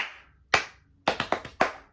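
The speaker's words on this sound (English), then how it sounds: "I will always just clap patterns" A single person claps out a rhythm pattern for an elementary music warmup: one sharp clap, a pause, then a quick run of four close claps, crisp and dry with nothing else heard.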